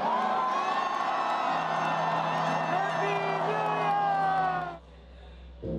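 A huge New Year crowd of about 100,000 people cheers and whoops in the cold streets of Gwanghwamun, Seoul, as 2024 arrives. A dense, loud roar of shouting voices holds steady, then drops off sharply near the end.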